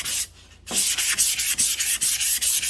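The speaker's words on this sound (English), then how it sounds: "You can still sand down, or like at least the paint." Block sanding old paint coated with dry guide coat gives a brisk, rhythmic rasp: a short stroke, a pause, then about a dozen quick back-and-forth strokes, close and loud.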